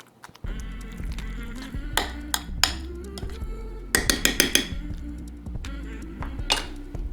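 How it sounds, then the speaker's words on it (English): A spoon mixes homemade guacamole in a bowl, sounding as irregular clinks and knocks against the bowl with scraping between strikes and a faint tonal hum underneath. "Now I just use my spoon. Mix it up."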